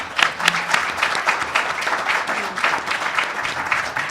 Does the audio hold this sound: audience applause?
yes